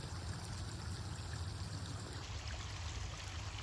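Water flows steadily from a farmer's hose, a faint continuous rushing and trickling without pauses and with no talking.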